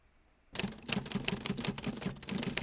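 Typewriter-style clacking added to an animated graphic, starting abruptly after a short silence and then running as a rapid, irregular string of sharp mechanical keystrokes and clicks, crisp and close.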